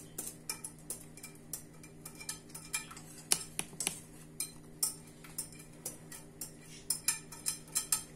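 A spoon stirs a thickening milk and semolina dessert in a pot with steady, rhythmic scraping and light clinks against the sides, close and fairly quiet.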